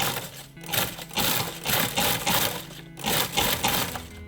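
A food processor pulses coarsely crushed peppercorns, giving several loud, close bursts of rattling, whirring grinding separated by brief gaps, with no talk.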